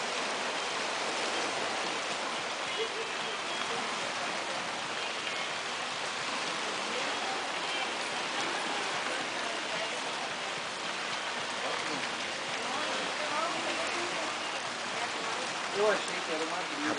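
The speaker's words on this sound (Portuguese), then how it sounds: "Tá chovendo muito." Heavy rain falling at night on an island, a steady, dense hiss of downpour lasting throughout, fairly soft and even with no break.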